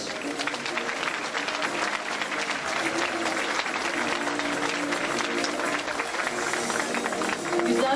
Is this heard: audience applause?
yes